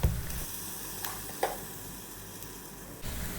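Mustard seeds fry in hot oil with dried chili and curry leaves for a chilli curry, giving a continuous close sizzle with small pops and a few stirring knocks, without talk.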